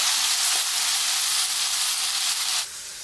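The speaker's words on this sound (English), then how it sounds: "we're going to fry that off for a few minutes" Chicken with aromatics fries hard in a pan for satay, a loud continuous sizzle and hiss that drops suddenly quieter near the end, with no talk.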